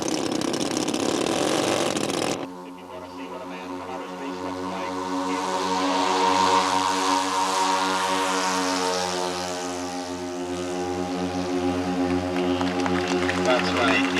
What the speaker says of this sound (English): The big B-17 was flown every day at Expo 90